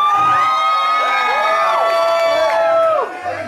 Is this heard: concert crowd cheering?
yes